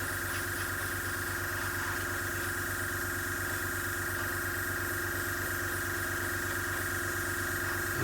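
Steady airbrush spray of AK Interactive True Metal paint at roughly 10 to 15 psi, a constant close hiss with a low mechanical hum, unbroken throughout with no talking.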